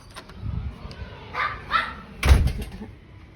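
A dog gives a few short barks and yips as a door is opened, set against low household noise; the barks come in brief bursts, fairly close, with no talk over them.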